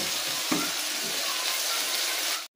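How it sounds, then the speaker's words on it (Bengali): Bhola fish fries in a pan with a loud, continuous, close-up sizzle and one soft knock early on, then the sound cuts off abruptly. "এইভাবে উল্টে অন্য পিঠ আমি ঠিক একইভাবে ভেজে নেব।"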